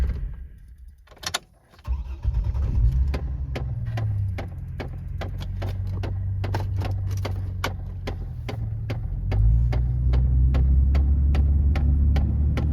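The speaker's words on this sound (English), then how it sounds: "Let me go restart the car." A Trailblazer's engine cranks and catches, then idles steadily, its revs rising near the end, with a rapid rhythmic ticking over the running motor.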